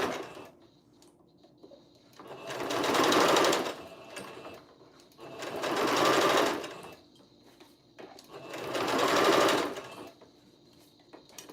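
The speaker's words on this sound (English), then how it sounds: "So right now I'm sewing together the headpiece." A sewing machine stitches together the head of a memory bear made from baby clothes, in three smooth whirring runs that each swell and fade, with quiet pauses between them.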